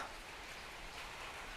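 Steady rain falls in a dense, even hiss of drops striking a surface nearby, continuous and unbroken, with no voices.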